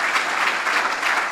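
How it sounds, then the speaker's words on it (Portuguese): A congregation claps together during an evening church service, a short, continuous burst of bright, even applause that carries through the whole moment without speech. "Vamos aplaudir."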